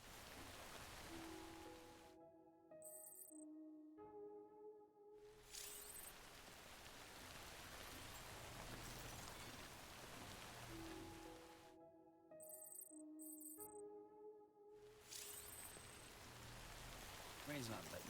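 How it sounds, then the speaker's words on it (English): Steady rain in the video game Death Stranding hisses throughout, interrupted twice by short bursts of tonal game music and effects during brief gaps in the downpour. "We can wait out the rain."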